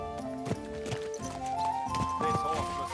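Horse hooves clip-clop steadily in Kingdom Come: Deliverance II, close and rhythmic, mixed with game music and a voice speaking over them.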